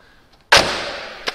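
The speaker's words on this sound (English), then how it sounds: "you can still hear that you close the doors like you close a safe or something." The door of a 1967 Mercedes SL 280 Pagode shuts with one sharp, heavy, solid thunk that rings out briefly and then fades. A faint click follows, and no one speaks.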